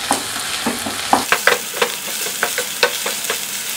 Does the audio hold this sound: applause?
no